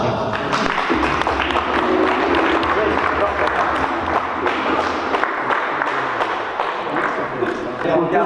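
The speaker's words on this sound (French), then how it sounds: "on applaudit Babar" Audience applause at a French housing-policy public debate, a dense continuous clatter of many hands lasting several seconds, with voices mixed underneath.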